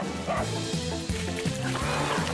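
A cartoon dog yips and barks in a quick series of short, bright woofs over a busy animated soundtrack with music and effects.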